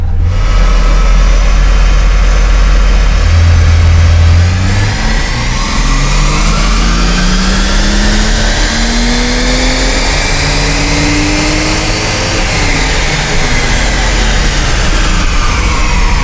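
A Ford XR6 Turbo engine on a dyno: it revs hard from a low rumble and climbs steadily as the pitch sweeps upward, with a rising whine layered over a loud, sustained roar for the whole stretch.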